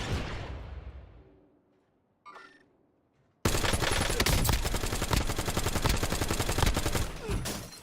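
Sustained automatic gunfire in Warzone, a loud, continuous hail of rapid shots that erupts suddenly after a fading rumble and a brief quiet moment, then rattles on for several seconds.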